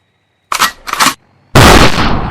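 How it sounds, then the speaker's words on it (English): Gunfire in the video game Renegade Nation: two short, loud bursts of shots, then a sustained, heavy barrage that keeps going to the end, with no talk over it. "We heard gunshots."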